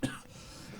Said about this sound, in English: Oh, that's a nasty cough you got there.